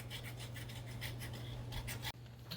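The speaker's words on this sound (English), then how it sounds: "Because that's not cork that I'm scraping off" Steady back-and-forth scraping of an old gasket off the carburetor of a 1950 Farmall Cub tractor, a close, continuous rasping rub over a low hum, with a brief break near the end.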